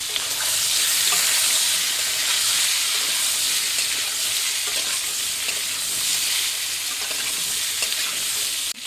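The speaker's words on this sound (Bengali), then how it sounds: "কেটে রাখা এঁচড় আর আলু সব দিয়ে দিচ্ছে তেলের মধ্যে" Cut jackfruit and potato pieces drop into hot oil seasoned with cumin seeds, sending up a loud, steady sizzle and hiss that holds close and constant throughout with faint stirring clicks.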